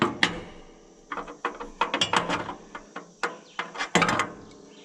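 A ratchet clicks in quick bursts of metallic pawl ticks while tightening the blade on a Woodland Mills HM126 sawmill, close and moderately loud, with short pauses between strokes and no talking.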